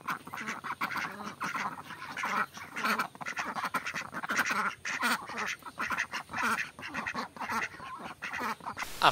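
A flock of 132-day-old farm-raised ducks quacks loudly and continuously, many overlapping calls in quick irregular bursts, close by with no talking.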